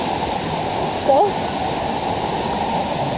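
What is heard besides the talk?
waterfall rushing during monsoon rain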